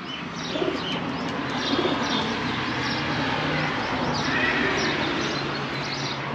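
Pigeons kept at a desert home in Rajasthan coo softly and steadily beneath a dense outdoor background, with other animal sounds briefly mixed in.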